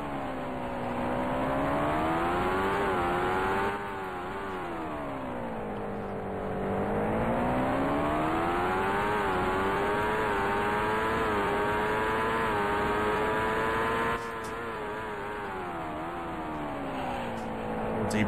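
Race car engines in the Indycar Racing II video game, set at the 1990 CART Detroit Grand Prix, drone steadily with continuous rising and falling pitch as the car accelerates and brakes through corners, loud and sustained throughout.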